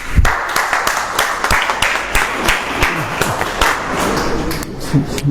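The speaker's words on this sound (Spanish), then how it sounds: "Recibimos al hermano Percy con un aplauso." A church congregation gives a welcoming round of applause for a Capuchin friar speaker at a Gospel of Luke workshop, a steady patter of hand claps with scattered sharper taps over about five seconds.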